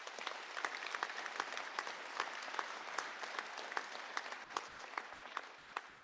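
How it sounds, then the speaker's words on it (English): A commencement crowd applauds steadily for several seconds, a dense even wash of clapping in a large hall with scattered sharper individual claps standing out and no voices over it. "let's give him another round of applause"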